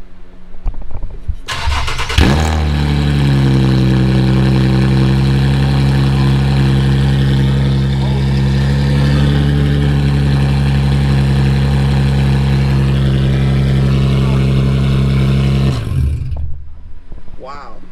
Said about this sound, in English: this is what it sounds like without the muffler